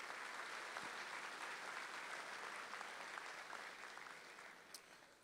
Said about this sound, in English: A round of applause, please, for our stage party.